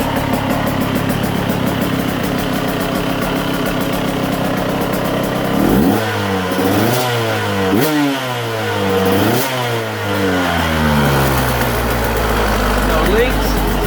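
A freshly rebuilt KTM 150SX/125SX two-stroke dirt bike engine idles with a buzzy rattle, then is blipped several times in quick rising-and-falling revs before settling back, loud and close.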